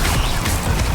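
Glacius, the freezing spell from Hogwarts Legacy, fills the second with a loud, dense, crackling icy rush that holds steady from start to finish with no voice over it.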